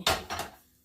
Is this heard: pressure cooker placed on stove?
yes